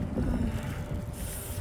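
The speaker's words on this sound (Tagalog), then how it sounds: "Windy." Cold outdoor wind buffeting the microphone, a loud low rumbling roar that fluctuates throughout, with no talking.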